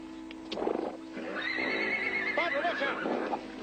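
A horse gives a loud whinny that rises and wavers for a couple of seconds, with soft hoof clops and scuffing around it and no clear speech.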